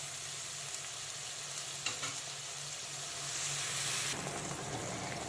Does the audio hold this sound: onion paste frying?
yes